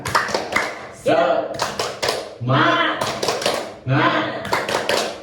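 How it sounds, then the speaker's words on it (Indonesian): A group of mothers at a community health session performs a rhythmic spirit clap, clustered bursts of sharp claps separated by brief pauses, with voices chanting and speaking between the bursts. "kita tepuk semangat dulu dong"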